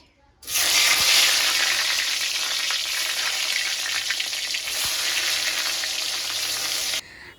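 Eggplant slices frying in hot oil in a wok, producing a loud, continuous crackling sizzle that begins abruptly and holds steady for several seconds before cutting off, with no voices.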